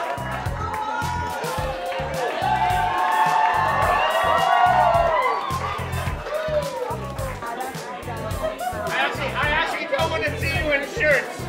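A crowd at the finals of a 2023 Ucluelet and Tofino battle of the bands festival cheers, whoops and chatters for the third-prize band, a loud, steady swell of voices and applause running throughout.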